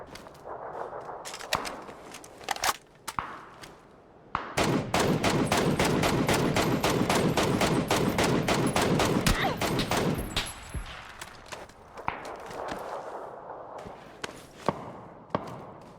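Automatic gunfire in the video game PUBG, scattered single shots giving way to a long, loud, rapid burst of about six seconds, then more sporadic shots.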